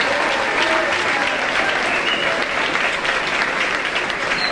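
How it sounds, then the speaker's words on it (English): Loud, sustained applause from an audience at a high school scholarship ceremony in Centreville, Maryland, a dense even roar of clapping filling the whole stretch with no speech over it. "Please join me in a round of applause for this."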